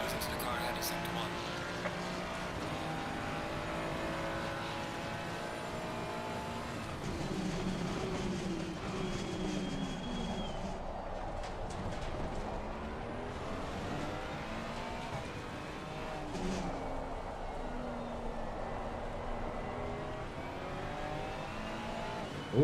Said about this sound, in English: Listen to the car ahead in sector 1.